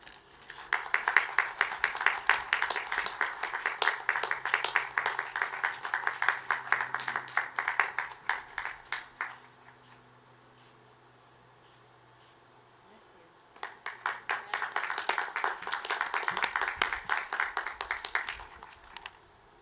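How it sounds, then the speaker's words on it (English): An audience applauds retiring faculty and honorary degree recipients at a 2021 Hood College ceremony, in two bursts of brisk rhythmic clapping separated by a brief quiet stretch. "Let's give another round of applause for our honored guests and our retiring faculty"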